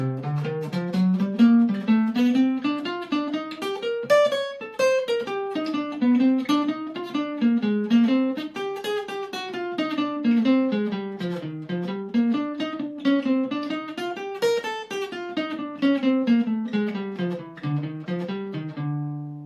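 A solo guitar plays a flowing blues line over an F blues using guitar formations, single notes and bends winding up and down, clear and close with no accompaniment.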